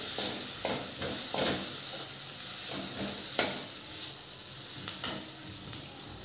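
Onion and tomato frying in spices for a quick potato curry: a loud, continuous close sizzle with rhythmic spatula stirs and scrapes against the pan, and no talking.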